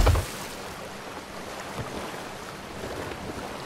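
Steady wash of sea and wind around a pirate ship sailing near an island in Sea of Thieves, continuous and even, with a brief thump at the start and no talk.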